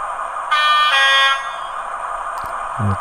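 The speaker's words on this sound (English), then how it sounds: "Just another one of the horns" A two-tone horn sound effect from a Hornby Class 43 HST model train blares for about a second over a constant engine drone, followed by a few clicks and a low thump.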